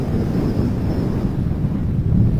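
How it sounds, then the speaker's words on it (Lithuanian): A strong wind buffets the microphone on open ice at an ice-fishing competition in Sweden, a steady low roar with a faint high whistle above it, with no talk. "iš tikrųjų labai tas vėjas švilpia"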